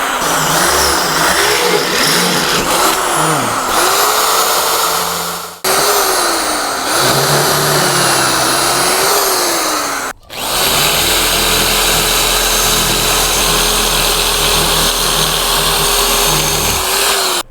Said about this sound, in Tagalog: Ganyan talaga pagka ang drill mo ay malakas.